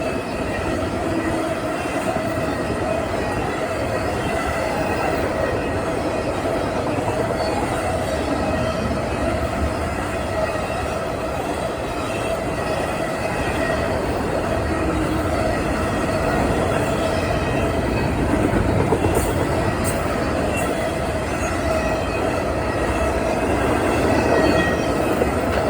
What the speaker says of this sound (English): NS-22W is an NS intermodal train that comes out of Chicago, Illinois, 63rd Street Yard and terminates